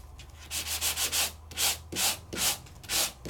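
A handheld Sandit sanding gadget rubs over a foiled paper surface, sanding through the brown layer to the colour beneath, in a series of rhythmic back-and-forth strokes, close and fairly loud with no talking.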